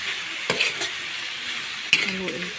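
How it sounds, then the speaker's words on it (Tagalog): String beans and shrimp being stirred in a sizzling pan for adobong sitaw: a constant close frying hiss with a few scraping stirs and a sharper clack near the middle. "Haluin ko muna."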